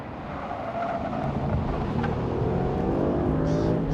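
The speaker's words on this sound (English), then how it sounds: "Going through the gears in the Mustang GT track pack, comparing it with the Camaro 1LE." A Ford Mustang GT with the track pack accelerates hard through its gears on a track, a steady engine roar heard from inside the car with wind rush and no talking.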